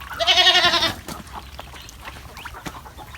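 A single loud, wavering bleat from a farm animal rings out close by during morning feeding of ducks and livestock, then gives way to soft scattered clicks and rustling.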